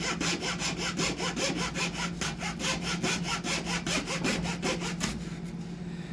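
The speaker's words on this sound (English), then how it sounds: "we're going to cut this piece of mahogany" A hand saw cuts through a piece of mahogany during a Yamaha guitar bridge repair, with fast, steady back-and-forth strokes rasping close and clear for about five seconds before stopping.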